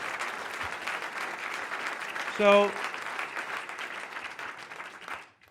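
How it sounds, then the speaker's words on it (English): A town hall audience in San Juan Capistrano applauds community activists, a broad wash of clapping that fills most of the stretch and fades out at the end, with a brief spoken word near the middle. "Can you give them a round of applause?"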